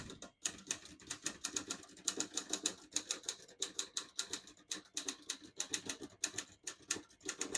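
Steady, rapid typing on a 1954 Olivetti Lettera 22 portable typewriter with a light, cushioned key touch: a close run of crisp, evenly paced key strikes, alone without talk.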